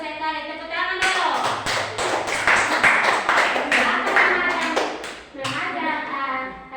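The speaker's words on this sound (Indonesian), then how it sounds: "Tepuk tangan dulu." A class of schoolchildren claps hands together in a quick, rhythmic burst of many sharp claps, close and loud, pausing briefly before a second round, with children's voices chanting along.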